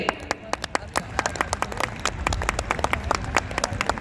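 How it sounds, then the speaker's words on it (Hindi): A large crowd at a silver jubilee celebration claps in welcome, with many individual sharp claps spread irregularly at first, then thickening into denser applause, fairly close and moderately loud. "सभी को तालियों से सुस्वागतम करेंगे"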